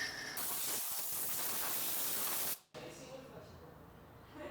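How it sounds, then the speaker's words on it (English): Compressed air hose blasting dust out of a cavity on an E30 M3 ute build, a loud close rushing hiss that cuts off briefly and resumes slightly softer. "I probably need to clean out some of the dust that's in there first though, so I'll get a air hose"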